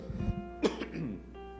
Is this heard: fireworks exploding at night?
no